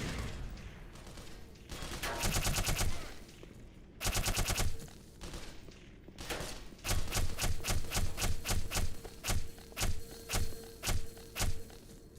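Weapon fire in the video game Black Mesa comes in long loud automatic bursts, then settles into a steady run of evenly spaced heavy shots, close and dominant with no talk.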